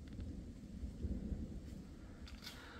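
A low thunder rumble rolls on steadily in the distance along the Via Francigena near Rome, deep and muffled, with faint rain-like hiss above it.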